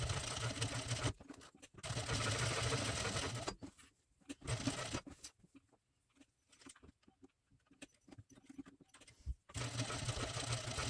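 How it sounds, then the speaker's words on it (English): A domestic sewing machine stitches a rectangle on a fabric crossbody bag, its steady mechanical whirring running in several bursts separated by short pauses filled with faint handling noise. "we are gonna go to the sewing machine and we are gonna do a nice rectangle"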